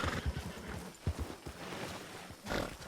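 Horse hooves in the video game Red Dead Redemption 2 during a winter endurance race, a quick run of clip-clop hoofbeats followed by a softer stretch and a brief snort-like burst.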